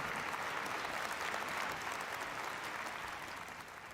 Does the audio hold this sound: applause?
yes